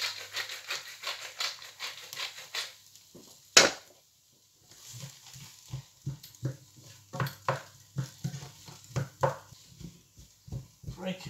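Potatoes are broken down and pressed in a frying pan, a run of close scraping and tapping knocks in uneven rhythm over a faint sizzle, with a sharp clack partway through.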